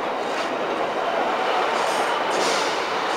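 A class 153 diesel railcar at Lincoln Central station produces a loud, steady, close rumble with broad rail noise that continues without a break.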